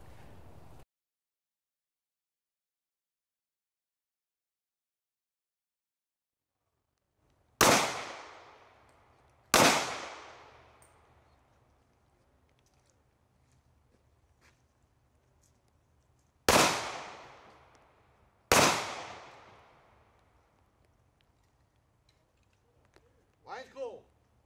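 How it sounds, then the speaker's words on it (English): Four loud, sharp gunshots fired at ballistic vest panels from 16 feet, each a sudden crack with a decaying tail, spaced irregularly across a quiet outdoor range, with a faint rustle near the end. "We're still firing from 16 feet, which is NIJ and FBI protocol"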